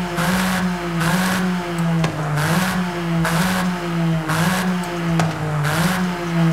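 A Toyota Yaris GR 2021 in Forza Horizon 5 revs repeatedly through its exhaust, engine pitch surging and dropping in rhythmic bursts, loud and close with a steady idle tone between revs.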